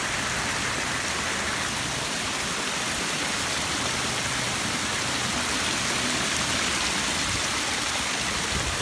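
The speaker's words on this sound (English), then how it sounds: "Look at that gorgeous waterfall." Water spills steadily over a pondless backyard waterfall built with rocks around and above it, beside a pool, giving a continuous close rushing, splashing wash with no talk.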